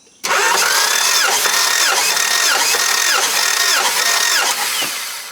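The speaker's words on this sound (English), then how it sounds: "I'm going to spin the motor over 4 times with my foot on the gas to open up the throttle body" Honda engine cranked by the starter with the main relay removed and the throttle held open for a compression test: a loud, steady, rhythmic churning that runs about five seconds without catching, then tapers off, with no voices.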